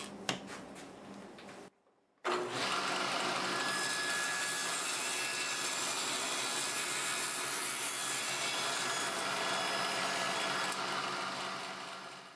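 A power saw cuts a wooden segment for a segmented turned sphere: a brief burst of motor noise, a short silence, then a loud, steady whining roar that holds for about ten seconds before easing off.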